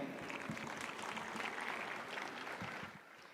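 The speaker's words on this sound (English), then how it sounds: "Let's have a big round of applause to SIS for yet remarkable year." Sustained applause from a school annual day audience, dense steady clapping that fills the hall and eases off slightly near the end.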